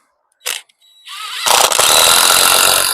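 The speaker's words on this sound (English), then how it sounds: "Sorry about the drill noise." Power drill used while building a new raised bed at an allotment, a short burst followed by a loud sustained whirring motor that runs steadily to the end.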